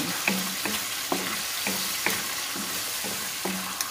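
Sardines and egg sautéing in a pan, with a continuous close sizzle broken by regular stirring scrapes roughly every half second, and no voices.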